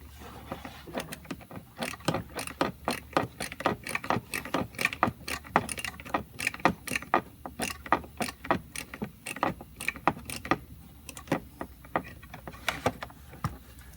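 Small hand ratchet loosening a bolt under a Chevrolet or GMC truck during a heater repair, producing a long, steady run of sharp, close pawl clicks in quick repeated strokes, with no voices.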